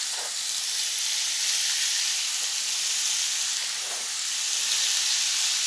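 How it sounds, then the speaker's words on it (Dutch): Steady, bright sizzling of fish frying in a hot pan for a Thai red fish curry, a continuous close hiss with faint occasional crackles and no voices. "Je hoort het al. Het gezellige geluidje van het koken."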